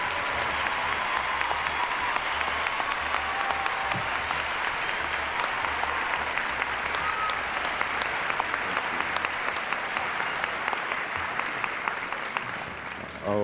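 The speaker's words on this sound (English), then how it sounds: "we got the clapping" Steady, dense applause from a large crowd fills the whole stretch at an award ceremony presenting a Lifetime Achievement Award, loud and continuous with a faint voice beneath it near the end.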